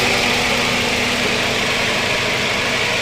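A 2013 Toyota Yaris E engine idles steadily and loudly up close, a constant hum with a faint whine and no changes in speed.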